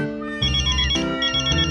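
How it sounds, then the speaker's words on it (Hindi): A mobile phone ringtone plays a bright, melodic electronic tune in short stepped phrases, clear and close, with no talking over it. "अरे अंजलि का फोन"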